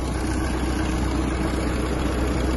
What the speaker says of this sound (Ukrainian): До речі, працює двигун досить чисто.